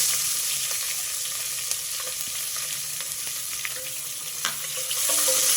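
Long-sliced onion frying in oil in a pan, a continuous close sizzle with occasional soft clicks and scrapes of a stirring spoon, no one speaking.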